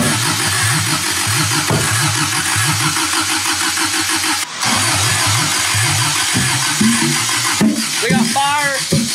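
A 1972 Toyota Celica with an 18RG engine cranks, catches and runs roughly, with uneven firing that sounds like a misfire, loud and close, while people talk over it.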